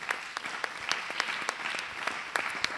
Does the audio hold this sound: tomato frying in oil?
no